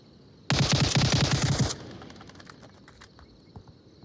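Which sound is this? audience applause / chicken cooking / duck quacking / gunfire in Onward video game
gunfire in Onward video game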